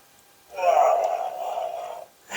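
Power-off sound from a Hasbro Star Wars Chatter Back Chopper toy: a buzzy electronic droid tone that swells and sustains for about a second and a half before cutting out, heard close with a short click afterward.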